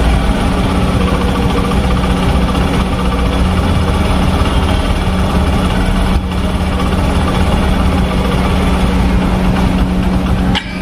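A 110cc commuter motorcycle engine idles steadily with its exhaust note, a loud, continuous low throb close by, holding an even rhythm throughout with no talk.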